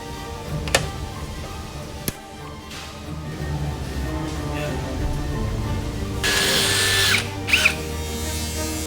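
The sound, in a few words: rivet being installed on jet ski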